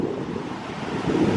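Ocean waves washing in, a brief rushing surf sound mixed with wind buffeting the microphone, steady and fairly loud.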